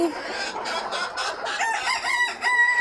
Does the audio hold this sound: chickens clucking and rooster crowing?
yes